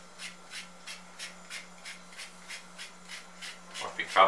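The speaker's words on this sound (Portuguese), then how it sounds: "agora para finalizar aí, ó, vamos raspar um chocolate" Chocolate grated by hand over a banoffee pie with dulce de leche, giving about a dozen steady, evenly spaced scraping strokes close by, ending in a louder clatter.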